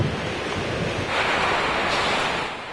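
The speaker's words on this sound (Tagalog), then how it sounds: "tumitindi na ang lakas ng hangin at buhos ng ulan" Strong typhoon wind and heavy rain in the Philippines roar as a dense, steady wash of noise with wind buffeting the microphone, swelling slightly midway, loud and continuous with no voices.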